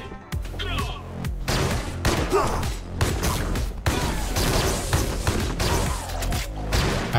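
Revolver shots in the fast-paced first-person game Mullet Mad Jack crack repeatedly in quick irregular bursts, loud and close, mixed with chaotic combat effects and impacts throughout.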